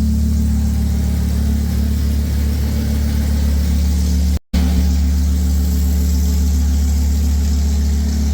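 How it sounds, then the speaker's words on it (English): A Lamborghini Huracan engine with gutted catalytic converters runs with a steady, heavy rumble close by, briefly cutting out for a moment midway before roaring on again. "So we're gonna start it and then give it some revs to try to blow all this stuff out."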